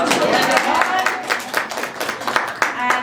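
An audience at an author event for writer Linda Bond at Macaulay House claps in a short round of applause, scattered hand claps that swell and then thin out, close and moderately loud.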